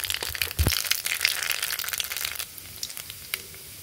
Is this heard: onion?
yes